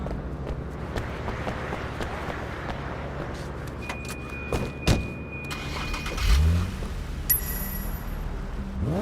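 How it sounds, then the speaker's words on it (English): Car engine from Sleeping Dogs, driving along a game street with a steady mid-level rumble, a few brief knocks and a rising rev near the end, no talk over it. "Take the car across the street."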